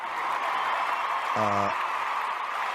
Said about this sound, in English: I'm going to applaud myself